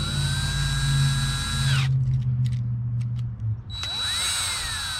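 A power tool whirs steadily while snugging down outlet screws on a commercial grade extension cord, close and loud, dropping out for a couple of seconds of clicks and handling noise before the whine resumes.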